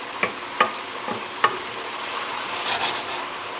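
Onions and garlic cooking in a pan over an electric stove on high heat, a low steady sizzle broken by several sharp stirring scrapes and clacks, close and fairly quiet.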